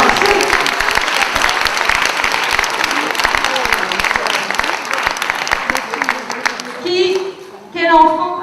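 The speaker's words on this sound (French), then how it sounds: "Vous pouvez applaudir." Dense audience applause fills most of the clip, loud and steady, then thins out near the end as voices speak briefly over the fading claps.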